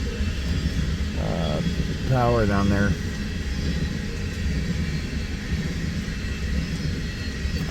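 A TVA unit coal train passes, a steady low rumble and drone filling the background while someone speaks briefly over it.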